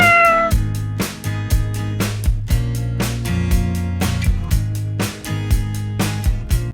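A pet cat fed milk at a grandmother's home meows repeatedly, loud and close, with a steady run of calls and brief gaps, a pitched tonal hum sounding beneath throughout.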